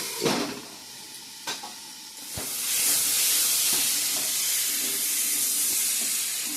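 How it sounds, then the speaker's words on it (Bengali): Curry frying with spices in a pan, a few sharp clinks of a utensil early on, then a loud, steady sizzling hiss that swells and fills the rest of the clip. "আমার তরকারিটা ভাজা ভাজা হয়ে গেছে মশলার সঙ্গে"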